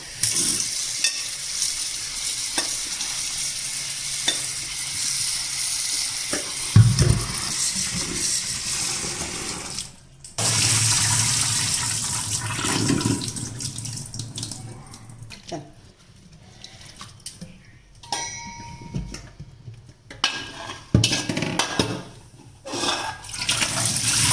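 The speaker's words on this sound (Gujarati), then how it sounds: "હવે આપણે આપણી આ બ્રોકલીને ધોઈ કાઢવાની છે" Finely chopped broccoli is rinsed under running tap water in a home kitchen, a gushing, splashing stream that cuts in and out with stirring and handling noises, while someone talks over parts of it.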